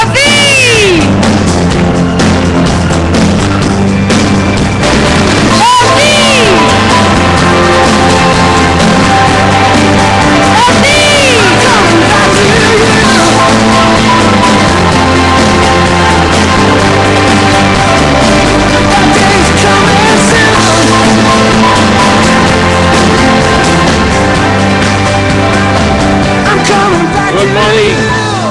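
Crowd at the ICON 2012 event cheering loudly for VP Cherian Mathew: sustained shouts, whoops and yells from many people, with music-like tones running underneath the whole time.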